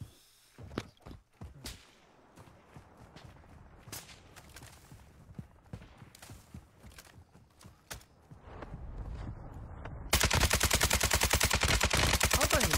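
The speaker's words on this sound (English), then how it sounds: "Someone's sniping him from the right" Sniper fire and other gunshots in a shooter video game: sharp, scattered cracks and footsteps build into a loud, continuous rapid burst of gunfire near the end.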